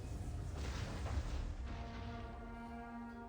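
A volley from Roman onager catapults in the Attila Total War video game, heard as a dense, rumbling wash of booming impacts with a heavy low-end roar that fades out without any talk.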